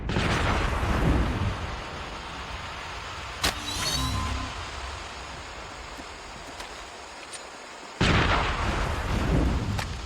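Gunfire in the mobile shooter Call of Duty Mobile, sharp shots and blasts standing out against a dense background of game action and noise, with a quieter stretch midway before the loud din returns.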